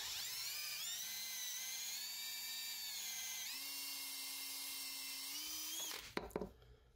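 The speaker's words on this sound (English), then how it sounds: "I took one of these step drills." A high-pitched step drill whines steadily as it bores through plastic on a recliner headrest, its pitch stepping up partway through, then cuts off with a few sharp clatters at the end.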